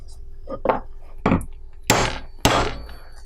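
A hammer delivers four sharp, ringing whacks to fasteners set on a metal anvil, the blows spaced unevenly and growing louder, with a quiet background between them.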